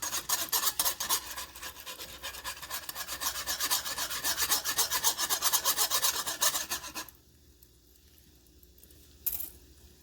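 A whisk scrapes rapidly and steadily against a pan while stirring a creamy spinach Alfredo sauce, a loud continuous rasping for about seven seconds, then stopping, with one brief clink near the end.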